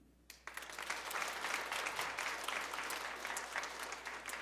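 Warm applause from a church congregation during an afternoon praise service, welcoming a new member being introduced; after a brief quiet start, dense clapping rises at once and holds steady and full for several seconds.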